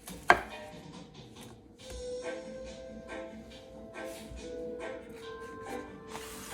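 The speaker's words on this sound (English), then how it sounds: "Now we're gonna clean our bell peppers and chop our bell peppers." Steady knife chopping of bell peppers on a cutting board, a run of close, irregular taps with a sharp clack near the start.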